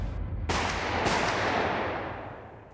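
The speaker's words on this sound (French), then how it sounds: "Quand des coups de feu résonnent dans le hall d'entrée du tribunal." Two loud gunshots crack in a courthouse entrance hall, a second apart, each followed by a long reverberant echo that slowly dies away.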